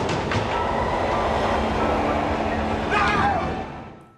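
A train rolls along with rhythmic clattering wheels and a steady rumbling roar, loud and close throughout, with a brief metallic screech before it fades out at the end.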